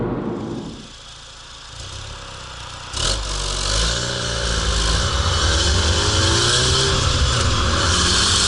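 A 2016 F56 Mini JCW accelerates hard in sport mode on country roads. A sharp thump comes first, then the engine note climbs steadily and grows louder, with no speech.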